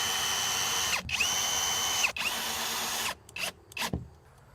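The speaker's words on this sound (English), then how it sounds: "We're just going to drill this in" A power drill drives a solar light bracket into a barn wall, whining in two long steady runs with brief pauses, then several short stuttering bursts.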